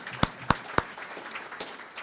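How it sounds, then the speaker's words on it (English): An audience at an early childhood learning laboratory's 50th anniversary event claps: three sharp, loud claps open the burst, followed by quieter, scattered clapping that trails off. "give them another round of applause."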